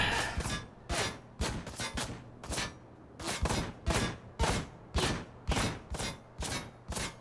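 Repeated short machine-gun bursts in the Ride to Hell: Retribution video game, about a dozen sharp rattling volleys in a steady rhythm, loud and close with brief pauses between them.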